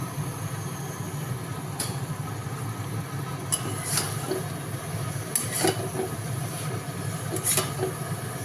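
Cabbage and spice mixture being stir-fried in a pan, heard as a soft continuous sizzle with occasional scraping and clinking of a spatula, close but fairly quiet.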